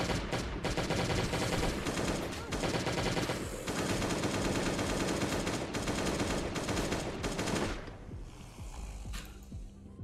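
Rapid automatic gunfire from a weapon in the video game Last Day on Earth, loud dense bursts crackling almost nonstop and then tapering off near the end.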